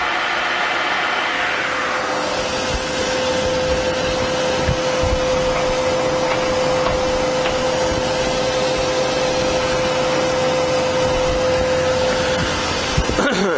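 A Harrison M400 lathe with a 2.2 m bed runs steadily at 800 RPM, giving a continuous loud mechanical hum with a sustained whine.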